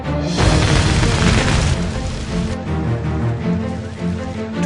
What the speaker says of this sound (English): Sudden overheating caused the gas pipe to explode and fire quickly spread to the upper floors.